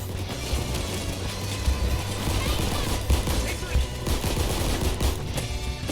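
Rapid, dense gunfire from spinning twirly guns in a crime-spree video game, a loud continuous fusillade of overlapping shots with no pause.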